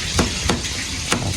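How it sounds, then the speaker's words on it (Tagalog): Fish fries in a pan with a steady, bright sizzle, broken by a few sharp scraping stirs, loud and close with no talking. "Tapos itong ating isda, prituhin na rin natin yan."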